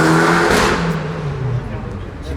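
A Ferrari 458 with a stock engine revs loudly and steadily up close, a dense roaring sound that holds for a couple of seconds.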